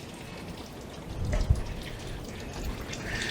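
Water from a garden hose splashes through a Daewoo Matiz radiator during a back flush, a soft continuous spatter and trickle with a brief louder gush midway, heard alone at low volume.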